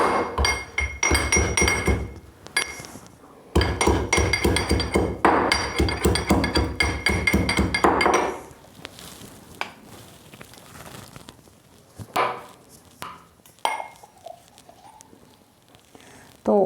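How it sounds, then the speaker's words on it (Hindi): Ginger crushed with a pestle for tandoori chai, a run of rapid hard pounding and clinking strikes in a kitchen, loud and close, then sparser knocks and clinks with pauses. "इसमें डालेंगे हम थोड़ा सा अदरक को कूट कर"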